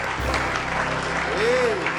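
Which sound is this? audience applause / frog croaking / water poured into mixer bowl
audience applause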